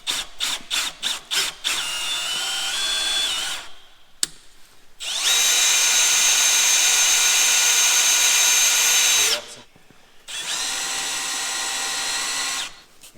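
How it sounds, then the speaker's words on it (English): A power drill with a bit boring through wood on an old farm building, first several quick stuttering bursts, then two long steady whining runs separated by short pauses, close and loud with no talk. "I should have started with a smaller drill bit."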